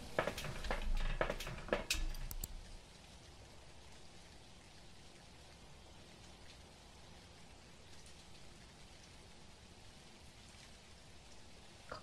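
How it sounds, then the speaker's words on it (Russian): Steady light rain in the video game Phasmophobia patters continuously and softly, after a few sharp clicks and taps at the start. "дождик, дождик, дождик"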